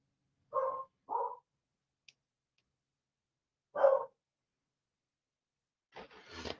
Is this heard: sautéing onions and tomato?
no